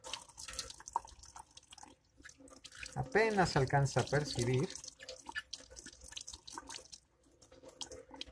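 A water jet rinses vinyl off glass during an etching job, its spray hissing and splashing steadily throughout, while a person talks briefly in the middle.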